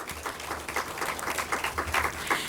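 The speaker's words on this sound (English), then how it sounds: "A big round of applause for all of you who are present here today." Applause from an audience at a formal welcome ceremony, a sparse, fairly quiet patter of individual claps with an uneven rhythm.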